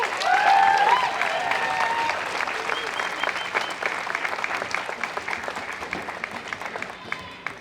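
Large outdoor crowd at a Brisbane March for Life rally breaking into loud sustained applause and cheering, dense clapping that tapers gradually over several seconds, with a voice briefly rising above it.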